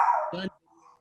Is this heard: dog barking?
yes